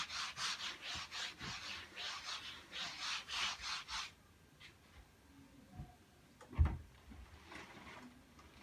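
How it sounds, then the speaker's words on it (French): Cloth rubbing back and forth across a kitchen worktop in quick, rhythmic strokes for a few seconds, then stopping, followed by quiet rustles and a single soft knock. "Je vais nettoyer vite fait mon plan de travail."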